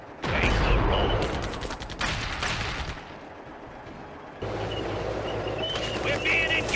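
A tank battle game plays dense bursts of gunfire and explosions, heaviest in the first few seconds. A brief lull follows, then a steady rumbling mechanical drone with scattered shots returns.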